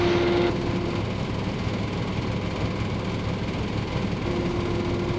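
Small airplane, November 412 Sierra Bravo, taxiing out for departure from Bremerton on a foggy day: a steady, droning piston engine hums close by from start to finish at an even level.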